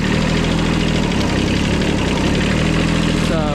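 A small old Japanese tractor engine runs close by, a loud, steady, throbbing mechanical drone that continues unbroken throughout.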